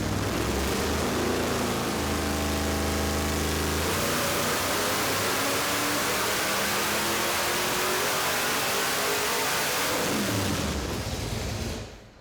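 V8 engine on a dynamometer, pulled hard all the way to 7,000 RPM, roaring loud and close with a steadily rising pitch over the first four seconds, then sustained high-rev howl before falling away near the end.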